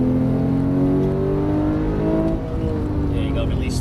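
Porsche 991 GT3 engine pulling hard under full throttle on a racetrack, a loud, steady rising drone heard from inside the car, with a brief dip near the end and a voice talking over it.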